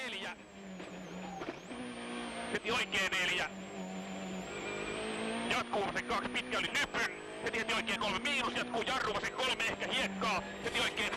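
A 2011 WRC rally car on the tarmac stages of Rally Spain, sliding with the handbrake pulled, its engine revving and wavering loudly under steady commentary and crowd noise, with sharp bursts of sound through the run.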